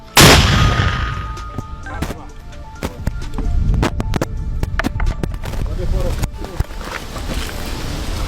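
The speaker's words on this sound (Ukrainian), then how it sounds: "Постріл!" Loud booming artillery gunfire bursts out repeatedly over a steady roar, with a heavy blast at the start and sharp cracks following, and voices shouting underneath.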